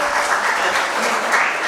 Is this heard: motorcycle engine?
no